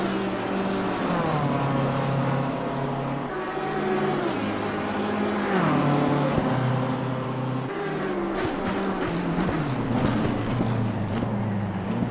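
Lamborghini race car engine in a PC racing game at Monza, a loud, sustained high-revving roar whose pitch steps up and down through gear changes, heard close and continuous without talk.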